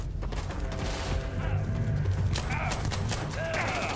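Gunfire in Starfield, with rapid overlapping shots and clattering mechanical impacts against a dense game soundscape, under a steady bed of combat noise and no clear talk.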